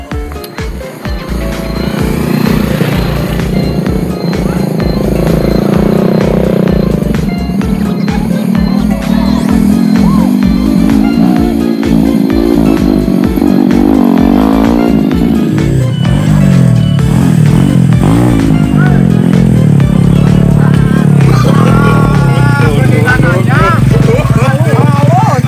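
A motorcycle engine rumbles steadily and loudly up close throughout, with clattering and people talking over it.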